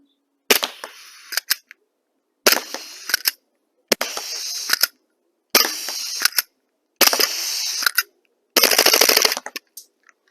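A Raven EU Series 18 gas blowback airsoft pistol fires full-auto in six short, crisp bursts of rapid snapping clicks, each separated by a brief pause, close up and with no talking.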